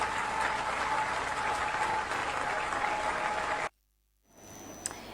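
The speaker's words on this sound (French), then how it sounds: "Je vous prie d'applaudir très très fort." A crowd applauds loudly with dense, continuous clapping that cuts off abruptly into silence.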